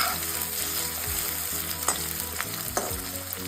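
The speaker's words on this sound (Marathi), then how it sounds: "अगदी कडकडीत तेलामध्ये ते कांदे मी तळून घेणार आहे" Onions sizzle steadily in very hot oil while being fried for chicken dum biryani, a continuous close crackle with a few sharper pops and stirring sounds.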